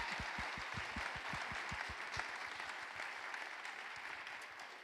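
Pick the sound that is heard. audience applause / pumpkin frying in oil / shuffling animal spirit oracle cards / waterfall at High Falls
audience applause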